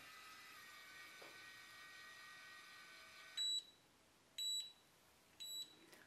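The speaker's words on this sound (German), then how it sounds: "das Piepsen ist schon ein bisschen nervig" A cordless automatic curling iron hums quietly, then gives three short electronic beeps about a second apart, clear and near in a quiet room.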